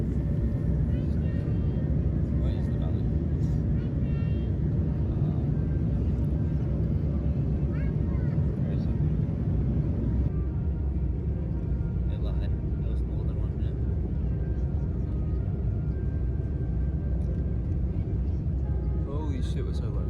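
An EVA Air airliner descends to land at Brisbane at night, heard from inside the cabin as a loud, steady low engine and airflow roar that shifts slightly midway, with faint talking beneath it.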